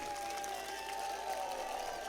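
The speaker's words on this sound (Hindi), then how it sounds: "उनका मैं अभिवादन करना चाहूंगा तालियां बजवाकर" Audience at a political rally in Nawalgarh clapping in a continuous, fairly dense patter of applause with a soft crowd murmur, moderately distant and steady throughout.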